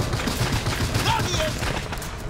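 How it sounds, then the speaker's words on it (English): A machine gun turret keeps up continuous rapid fire in the shooter game Bioshock Infinite during a fair mob fight, a dense steady rattle with faint fireworks-like whistles layered over it. "Just gonna let the machine gun take out everybody over there"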